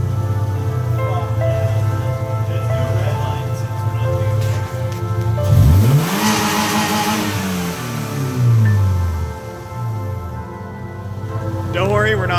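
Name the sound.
Subaru Legacy engine revving with no alternator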